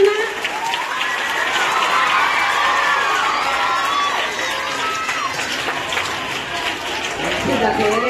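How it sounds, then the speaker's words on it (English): A school audience at a Teachers' Day celebration cheers and applauds for a teacher, a continuous loud roar of shouting children and clapping with whoops rising through it. "A big round of applause to Malvina."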